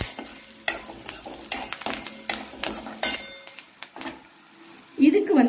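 Grated coconut and turmeric fry in a pan for a Mangalore avulakki chivda, with a steady close sizzle broken by repeated scraping stirs of a spoon and a few light metallic clinks near the end.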